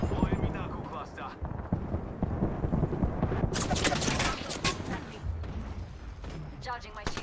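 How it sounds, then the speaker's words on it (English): Knuckle cluster grenades go off in a shooter video game with a dense, loud volley of rapid crackling blasts over continuous rumbling gunfire and battle noise, and a voice talks over the action. "Deploying me knuckle cluster."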